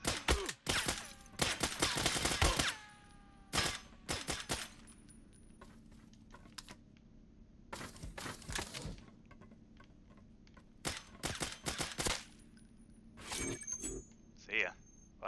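Bursts of gunfire in the Islands of Nyne battle royale game, several sharp volleys separated by pauses, heard alongside a player talking.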